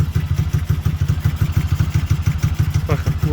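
A motorcycle engine with warm oil and stiff gear changes chugs at close range in a loud, steady pulsing rhythm, with a short mechanical clunk near the end as a gear engages.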